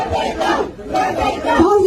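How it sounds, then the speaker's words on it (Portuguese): A crowd at a political event boos and shouts in surging waves, loud and close, across a short burst with no clear single voice. "o Alcolumbre foi vaiado na sua própria terra"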